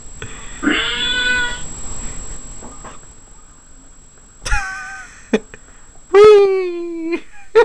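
A house cat meows several times, a drawn-out call early on, then sharper meows near the end, loud and close between short quiet gaps, with a little talking in the room.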